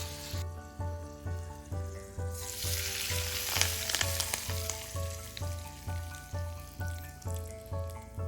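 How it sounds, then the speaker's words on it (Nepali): Hot oil sizzles steadily as spices are tempered for a chayote pickle, a continuous close frying hiss that swells briefly in the middle, with a rhythmic pulsing sound beneath it and no talk. "अब यसले चाहिँ अचारलाई छान्नु पर्छ।"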